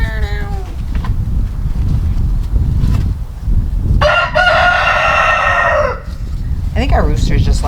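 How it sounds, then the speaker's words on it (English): Roosters call back and forth. One crows loudly and close for about two seconds midway, with shorter, rougher calls before and after, over a noisy outdoor background. "I think our roosters just like talking to each other."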